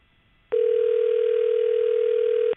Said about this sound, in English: All right, now it's ringing.